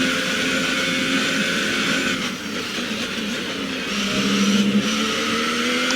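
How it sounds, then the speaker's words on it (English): Race car engine from the F1 2018 video game during a practice session at the Brazil circuit, holding a continuous close drone that dips briefly and then rises with a revving surge near the end, with no talk over it. "Okay, now I'm driving the car."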